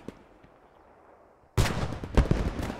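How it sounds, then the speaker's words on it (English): Mortar fire in the World War II shooter Post Scriptum, a sudden loud booming barrage that follows a quiet stretch, with several heavy thumps rolling close together. "Tim, you firing mortars on the A6."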